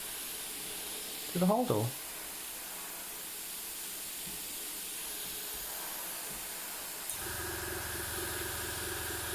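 An airbrush sprays paint onto a model door, a steady close hiss that runs the whole time and shifts tone slightly near the end, with a voice speaking briefly early on.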